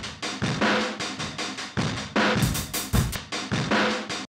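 A heavily distorted, filtered drum loop thumps in a steady groove, gritty and saturated, with a short bright burst of noisy hits midway.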